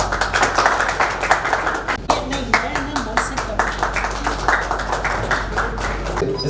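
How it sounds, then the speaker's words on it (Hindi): An audience claps loudly for the campaign's brand ambassador at the launch of a women's campaign in Udaipur. Close, brisk clapping runs throughout with sharp individual hand claps, and voices are heard under it. "एक बार जोरदार तालियां हो जाए।"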